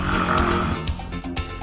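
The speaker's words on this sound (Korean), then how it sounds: "이렇게 중년 여성들에게 갑자기 찾아오는 코골이." A middle-aged woman snores, giving rough, rattling breaths in a steady rhythm that rise and fall several times, fairly loud and close, with no talking.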